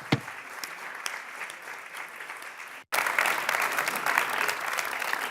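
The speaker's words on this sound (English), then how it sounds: "And so just another warm round of applause" Sustained audience applause at a high-level Open Government Partnership event at the United Nations, a steady dense clapping that briefly cuts out near the middle, then resumes louder and fuller.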